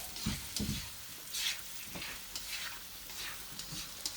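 Mixed seafood fries in a pan over high heat with a steady, close sizzle and intermittent scraping stirs, no voices.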